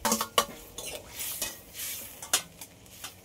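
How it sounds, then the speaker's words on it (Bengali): Potatoes and ridge gourd stirred into a sizzling pan for a fish curry, with quick clinks and scrapes of a spatula against metal over a low sizzle, close up, with no talking. "এবার আলু আর ঝিঙে ঢেলে দেব।"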